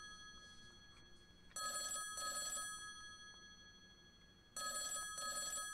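A phone rings in the video game Potato Thriller, with two bursts of a bright electronic bell, each about a second long, separated by a pause, over a quiet background.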